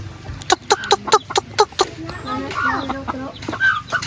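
Chickens cluck in a rural province yard in a quick series of sharp, close clucks, followed by softer mixed fowl calls and faint background noise.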